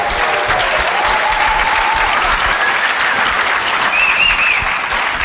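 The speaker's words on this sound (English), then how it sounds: "Can we give him a round of applause, please?" A conference audience breaks into a sustained round of applause, dense and steady from start to finish with no gaps.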